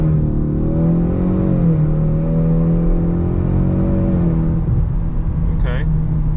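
A 2024 Ford Mustang EcoBoost Premium pulls away from a standstill with a loud, close, steady engine drone whose pitch holds, dips briefly, then climbs as it accelerates.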